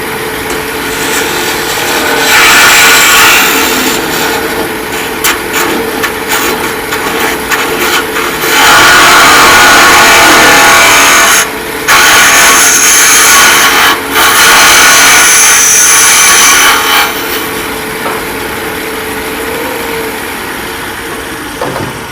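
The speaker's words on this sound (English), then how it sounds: "I can deepen it with just this round nose scraper" A round nose scraper cuts into a spinning wooden scoop on a woodturning lathe, giving a loud, continuous rasping scrape that rises and eases in bursts over the steady motor drone.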